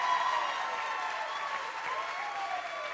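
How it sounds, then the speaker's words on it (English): A church congregation claps continuously for a few seconds, a dense, even wash of applause filling a large room. "Clap your hands and shout amen."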